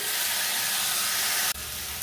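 Half-fried rohu fish pieces, cooked with mango and no oil or spices, hit a hot pan with a loud, steady, close sizzle that drops sharply and settles into a quieter hiss after a moment, with no talking.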